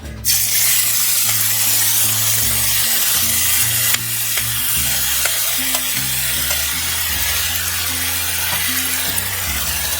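Green onions sizzle in hot oil in a pan, a loud, steady frying hiss that runs unbroken from start to finish with no speech.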